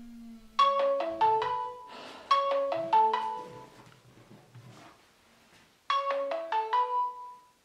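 A mobile phone ringtone plays a bright, bouncing melodic phrase three times, loud and close, with short gaps of near silence between repeats.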